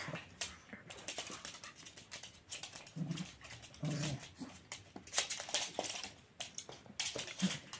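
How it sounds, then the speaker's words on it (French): Two pet dogs, Suki and Oreo, play-fight indoors, with scattered soft growls, whimpers, yips and pattering paws in short irregular bursts, fairly quiet and close. "Des moments de jeu entre Suki et Oreo."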